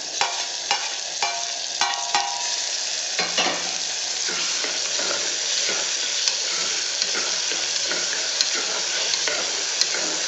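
Chopped tomatoes sizzle and fry steadily in a hot pan over high flame for a bean and pea curry, with occasional stirring scrapes and a continuous crackling hiss.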